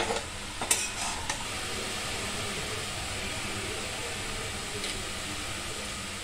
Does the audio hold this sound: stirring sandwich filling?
yes